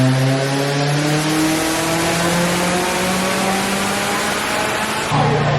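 Turbocharged Subaru BRZ making over 500 hp roars through a sustained dyno pull, its engine note holding a steady high rev for about five seconds before dropping off, loud and close with no talking.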